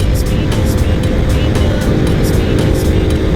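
A motorcycle engine revs and accelerates on a newly opened road in Phayao, a steady loud broadband roar with constant wind rush throughout and no talk.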